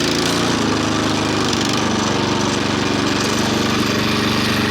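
A WEIMA walk-behind tractor engine runs steadily in first gear, a loud, continuous close-up mechanical drone with a rough, even throb throughout and no pauses.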